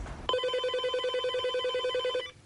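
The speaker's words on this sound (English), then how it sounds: "It started with a phone call." A telephone bell rings in one steady, continuous electronic trill lasting about two seconds, clear and close, with no voices.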